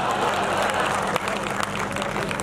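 Applause from an audience at a Hindi poetry gathering (kavi sammelan) in Surat, a steady dense wash of clapping filling the whole moment at close range.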